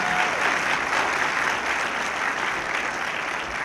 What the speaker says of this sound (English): Let's give another round of applause to our Mayor,